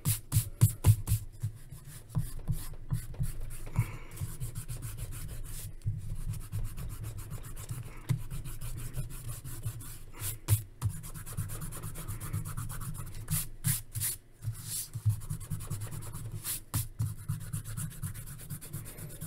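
Eraser rubbing on paper at a drawing table, a steady scrubbing rasp broken by short pauses, with small toys on the table rattling along with each stroke.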